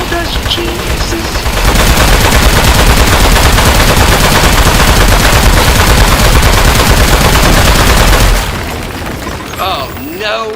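Dense, loud continuous gunfire and booming impacts from the video game Aperture Desk Job, sustained for several seconds before cutting off, with talking at the start and end.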